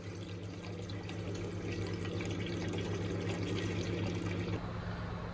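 Water flushing through pub beer lines during a line clean, a steady, close rushing and trickling flow with a constant low hum beneath, continuous for several seconds before easing slightly near the end.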